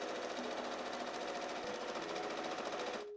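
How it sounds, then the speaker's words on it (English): A sewing machine runs steadily, stitching straight across a fabric seam on a lined bodice for a prom dress made from a bedsheet, close and loud with a fast even whir before stopping abruptly at the end. "And now I'm just going to go ahead and sew all the way across."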